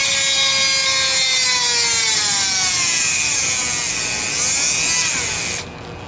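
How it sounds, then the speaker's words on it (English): A power drill bores at an angle into a whittled wooden Uncle Sam hobo figure, a loud, continuous whirring grind with a shifting pitch that holds steady and then cuts off near the end. "now what I do is I take my drill and I just sort of come at an angle with this thing."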